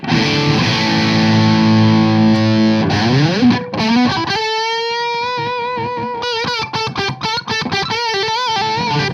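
Electric guitar with a humbucker pickup, driven and distorted, sustaining a chord, then sliding into a run of picked notes with effects.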